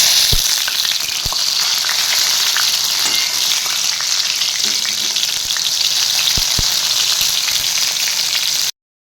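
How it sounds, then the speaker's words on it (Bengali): Pointed gourd pieces fry in hot oil, giving a loud, continuous close sizzle with occasional sharp crackles and spatters and a few faint utensil clinks, steady for about nine seconds before cutting off. "পটলগুলো আমাদের ভাজা হয়ে গেছে, দেখতে পাচ্ছেন কালারটা চেঞ্জ হয়ে গেছে"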